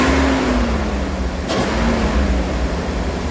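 The engine of a cheap old Rolls-Royce idles a little high with a steady, even hum, and a single brief click sounds partway through.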